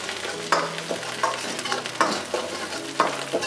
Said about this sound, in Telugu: దీన్ని స్లో మీడియంలో ఫ్రై చేసుకోండి లైట్గా